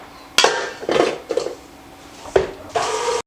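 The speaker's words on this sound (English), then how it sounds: "now we're going to mix this till it's nice and creamy" Sweet potato casserole filling with vanilla being mixed until creamy, several bursts of whirring mixer noise with a sharp clack at the start, separated by brief pauses.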